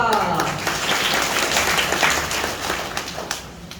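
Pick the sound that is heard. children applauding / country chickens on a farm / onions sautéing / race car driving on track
children applauding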